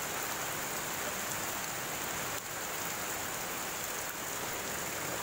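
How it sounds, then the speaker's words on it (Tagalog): Steady downpour of heavy rain, a loud, even roar of drops hitting surfaces nearby, unbroken from start to finish. "Lakas ng ulan."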